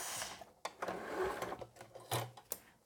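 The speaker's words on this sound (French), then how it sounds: "vous pouvez y aller doucement en tournant à la main le volant de votre machine et vous finissez" A sewing machine stitches a fabric zipper pouch in short, stop-start bursts of whirring, close and clear with no talking.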